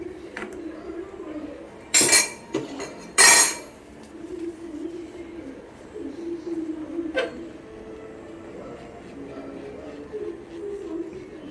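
A clay pot of threadfin bream curry with ground coconut is twisted to mix, giving two loud ceramic clinks about a second apart, then a fainter knock later over a quiet kitchen background.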